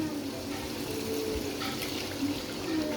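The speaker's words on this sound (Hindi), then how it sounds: "अब हम इसमें पानी डालेंगे।" Water being poured into a pot of rice while cooking mutton tahari, a steady close stream of liquid splashing and trickling for a few seconds.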